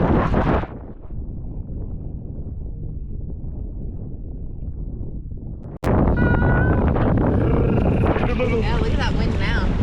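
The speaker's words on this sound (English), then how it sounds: "look at that wind now" Strong wind roars into the microphone while kitesurfing with a Cabrinha Moto X kite. The buffeting is heavy at first, eases to a lower rumble, then bursts back loud and constant, with voices talking underneath.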